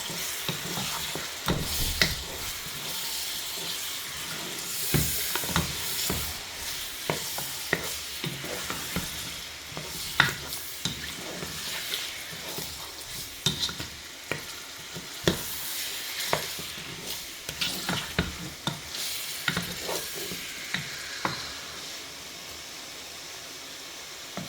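Okra frying with onion and oil in a pan, a constant close sizzle broken by repeated scraping and clattering stirring strokes at an uneven rhythm, with no voices.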